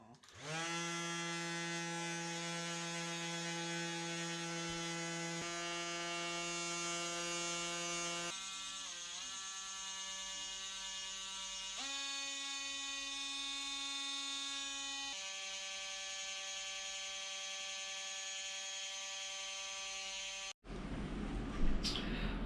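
Electric polisher working a marble sculpture during restoration, a continuous high-pitched motor whine with harmonic overtones, steady for about twenty seconds and shifting pitch several times as the load changes, then cutting off abruptly.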